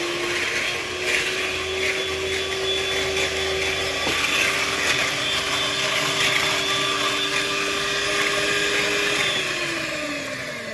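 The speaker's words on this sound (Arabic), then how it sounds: "كل ده ينضرب بقى، هنعمل احلى كريم شانتيه هيعجبكم جدا جدا جدا" An electric mixer whips chilled cream into chantilly cream, a loud, steady motor whine running the whole time with a slight change in pitch near the end.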